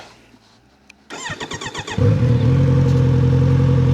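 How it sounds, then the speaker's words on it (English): A 2026 Kawasaki Z900RS four-cylinder motorcycle cranks with a rapid starter whir, then catches and settles into a steady, loud, low idle burble, heard up close with no talking. "Nice reassuring 4-cylinder burble from the cockpit"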